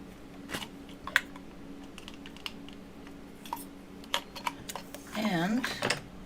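A blade slices through a hexagonal cane in a run of crisp, irregular clicks and taps, with a louder scraping stretch near the end and a steady hum in the background.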